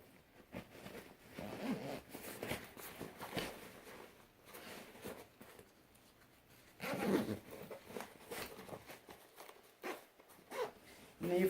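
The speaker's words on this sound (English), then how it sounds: "And then just zip it in." A zipper on a camping chair's carry bag is pulled closed in a few quick rasping strokes, close by, with brief pauses and light handling noise between them.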